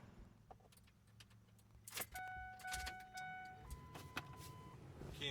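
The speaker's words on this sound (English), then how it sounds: "Key in the ignition." A key slides into the ignition of a 7.3-liter truck, a short metallic jangle and scrape of keys with a few electronic chimes, close and fairly quiet against a low idle-like hum.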